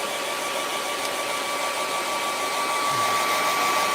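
A hair dryer blowing continuously on the bottom half of a watercolour painting, a loud, steady whirring hum from start to finish with no breaks.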